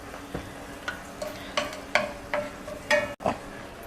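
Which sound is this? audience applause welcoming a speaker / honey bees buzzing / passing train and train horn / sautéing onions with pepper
sautéing onions with pepper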